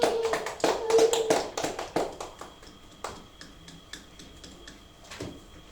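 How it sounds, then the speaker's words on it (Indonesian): Small classroom applause during a science lesson, a handful of people clapping in quick uneven bursts that start fairly loud and thin out to scattered isolated claps, with no talk over it. "Beri tepuk tangan untuk Mbak Septi."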